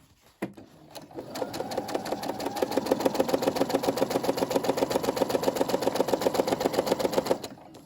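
A Brother SE600 sewing machine backstitches in a steady rapid mechanical chatter, starting after a brief click and running evenly close up for several seconds before stopping.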